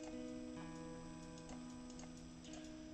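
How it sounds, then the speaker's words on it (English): A clicky Rubik's Cube is fidgeted with, producing faint, fairly regular little clicks over a steady background of sustained tones. "I got my clickily clackily Rubik's Cube today, so that's what I'm fidgeting on."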